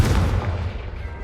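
A single Confringo spell explosion from the Hogwarts Legacy game lands close and loud as a deep booming thump that rolls off and fades within a second.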